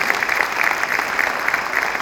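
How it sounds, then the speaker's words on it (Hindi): Steady applause from a theatre audience at a literature festival, dense clapping throughout with no pauses, fairly loud and close. "साउंड्स एंड लाइट्स टीम के लिए एक बार तालियां"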